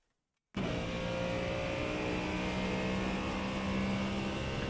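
A Ford Mustang GT3 engine at full throttle in iRacing on the Nürburgring Nordschleife bursts in after a brief silence, then holds a loud, steady, high-revving drone with a sustained engine tone for the rest of the clip, no talking.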